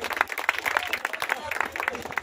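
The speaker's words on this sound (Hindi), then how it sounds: "ताली जोर से बजाइए।" Audience clapping at a political campaign rally in Sitamarhi, quick uneven bursts of hand claps at moderate distance, mixed with crowd voices.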